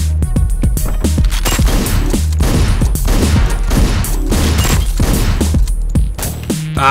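Steady fusillade of rapid gunfire from the top-down shooter Hotline Miami, dense overlapping shots over a constant loud game soundtrack, continuing for about seven seconds with a brief dip near the end.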